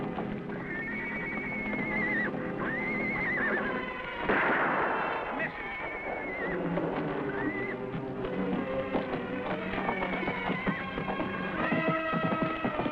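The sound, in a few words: stallion whinnying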